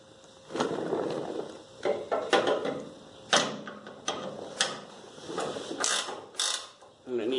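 A wrench loosening a tow bar bolt on a car, with scraping metallic ratchet-like clicks and grinding turns in irregular bursts, close up over a muffled background rumble.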